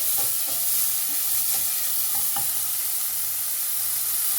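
Chopped onion sizzling in a pan on a home stove, a steady hiss of frying with a few light stirring scrapes, no voices.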